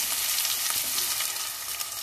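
Chopped onions fry in a pan for ridge gourd curry, a steady close sizzle with faint stirring scrapes running throughout.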